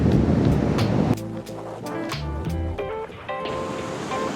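Ocean surf rolling onto a black sand beach in Iceland: a steady, loud wash of waves mixed with wind rumble on the microphone, and brief tonal sounds partway through.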